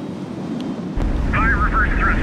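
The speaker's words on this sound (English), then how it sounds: "Fire reverse thrusters." Reverse thrusters on a spaceship in HighFleet kick in as a sudden loud low rumbling roar after a brief quieter stretch, continuing steadily with a warbling higher tone layered over it while someone talks.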